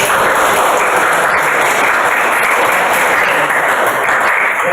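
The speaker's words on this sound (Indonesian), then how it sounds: "tepuk tangan semua" Sustained applause from a classroom audience during a student teaching practice session, a dense, loud wash of clapping that holds steady throughout with no voices above it.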